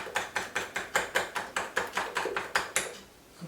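Flour is worked into dough by hand in a home kitchen, giving a regular run of about a dozen close slapping thumps, roughly four per second, that stop near the end. No one speaks.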